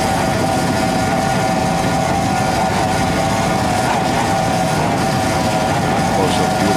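Grand prix racing powerboat running on 2.5 EFI engines off Miami Beach, heard as a continuous loud engine roar with a steady humming tone across the whole stretch.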